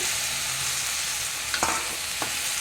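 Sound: stirring chopped tomatoes into a frying pan

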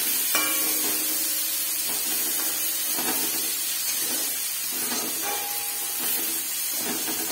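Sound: stirring peas in a frying pan

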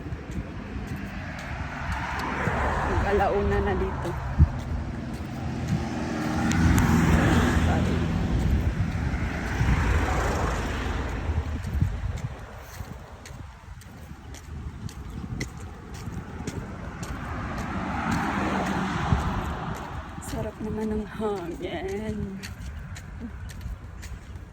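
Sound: passing vehicles on a road

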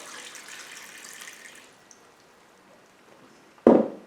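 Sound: pouring out water from a pot

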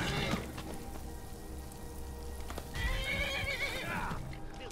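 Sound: wild horse neighing and hooves in the video game Skyrim

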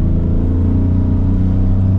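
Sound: Toyota Yaris Cross Hybrid accelerating hard from standstill

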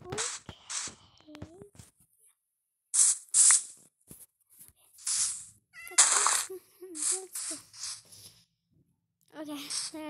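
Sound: cat meowing in Minecraft video game

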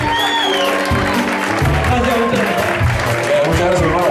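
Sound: audience applause at a concert

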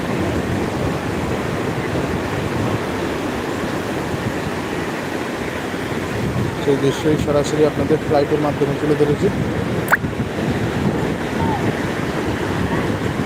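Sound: sea waves on the beach at high tide

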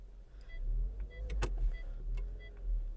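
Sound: Skoda Octavia A5 electric power windows operating

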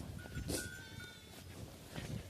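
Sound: sheep bleating

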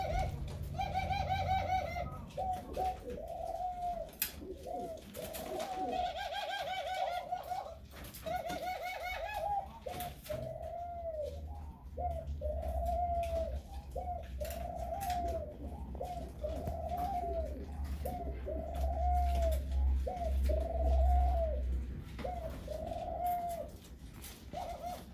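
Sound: laughing doves cooing in a breeding loft

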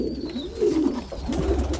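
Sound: pigeons cooing in a loft

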